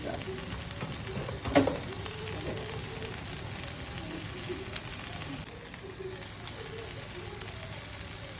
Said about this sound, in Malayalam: അങ്ങനെ അതെല്ലാം ഇട്ടിട്ട് നല്ലോണം ഇളക്കുക